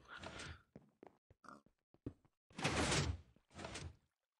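In the Minecraft video game, a door triggers with short blocky clunks and creaks, followed by two longer, louder grinding bursts near the end, close and with no talking.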